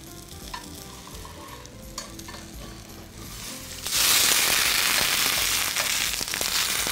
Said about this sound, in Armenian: Մի երկու րոպե էլ մյուս կողմից տապակենք և ուղարկենք ջրոց։